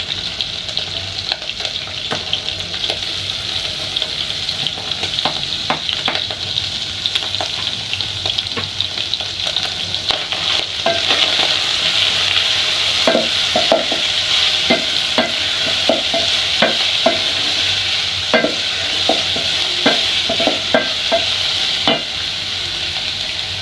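Onions fry in a pan with a constant loud sizzle while a utensil stirs them, giving repeated sharp scraping knocks that grow busier in the second half.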